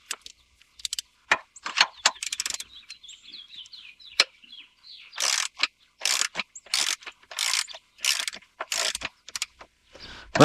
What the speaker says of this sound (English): First thing I like to do with doing these is I like to loosen up the bolt